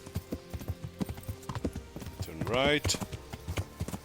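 Horse hooves clip-clopping in the video game Kingdom Come Deliverance, a steady rhythmic trot of close, crisp hoof beats with a brief whinny partway through, while a person talks over it.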